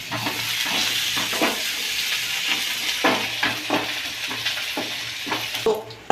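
Mustard seeds, shallots and curry leaves sizzle in hot oil for a tempering, a close, continuous crackling hiss broken by repeated scraping stirs of a spoon in the pan.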